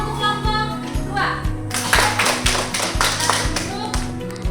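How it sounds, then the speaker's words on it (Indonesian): Students in a classroom clap for a group of classmates, steady close applause layered over background music with a thumping beat. "tepuk tangan dulu untuk kelompok dua"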